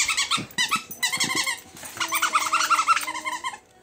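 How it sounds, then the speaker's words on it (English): A dog growling and squeaking playfully on Christmas morning at home, with a close run of low rumbling growls broken by high whimpering yips, loud and continuous with no talk over it. "This is a happy doggy at Christmas time."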